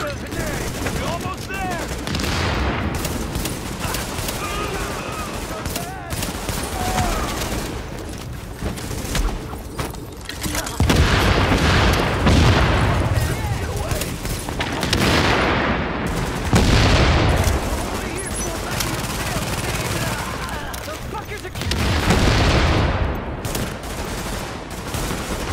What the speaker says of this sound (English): Gotta love the explosive rounds.